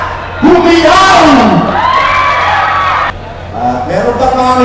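A crowd at Vape Expo Manila 2018 shouts, whoops and cheers loudly, with voices swelling in bursts before a brief dip and a renewed surge of yells.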